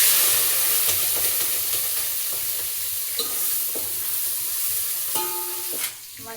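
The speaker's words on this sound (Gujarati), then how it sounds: "મરચાં તળીએ છીએ. તેલ ગરમ થઈ ગયું હવે." Green chillies fry in hot oil, giving a continuous bright sizzle and hiss with occasional stirring clinks and scrapes of a utensil, close up and without talk.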